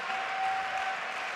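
Spectators at a pelota match in Pamplona give brief, faint, distant applause, a soft even patter in a large court.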